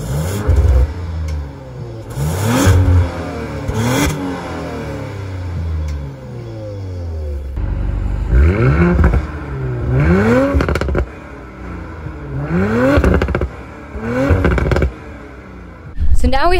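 An Audi RS5 with a tune and aftermarket exhaust revs in repeated loud bursts, rising and falling engine pitch with crackles between pulls, close by.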